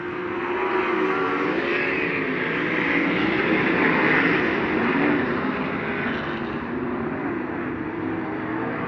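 Sprint race cars at speed on a dirt track, a sustained, roaring blend of engines that swells and fades slightly as the pack passes, heard from a distance without talk.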